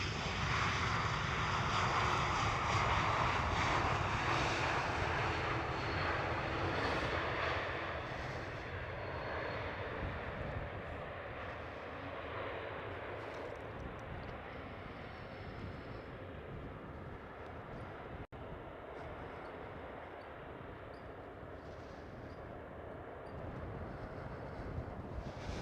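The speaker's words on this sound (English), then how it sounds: "Airbus A220." A Croatia Airlines Airbus A220 at Schiphol Amsterdam roars with a loud, continuous jet engine rumble and hiss that dominates throughout, slowly easing slightly in intensity as the aircraft passes.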